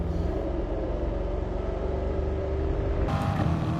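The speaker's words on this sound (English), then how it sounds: "downshifting into third gear as fast as possible on the throttle out" A Corvette Gr.4 race car in GT Sport at Spa-Francorchamps roars loudly and steadily, its engine note dropping with a downshift and then surging as the throttle opens, with a sharp shift near the end.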